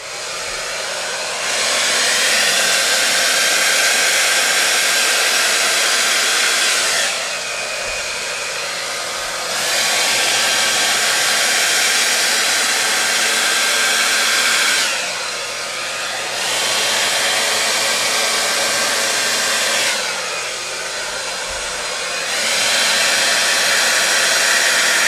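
A hair dryer blows steadily over a fluid art paint pour to open cells, running loud and close in long bursts that cut off briefly several times before resuming.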